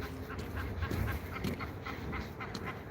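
A large flock of wild ducks quacks in a dense, constant clamor outdoors, a mass of overlapping calls heard from a moderate distance, with no voices over it.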